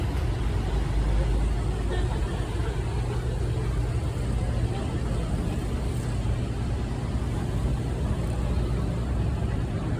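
Trans Mamminasata city bus arriving at a stop near a Makassar shopping mall, heard as a steady, close, heavy low engine rumble mixed with continuous traffic noise, with no breaks across the whole stretch.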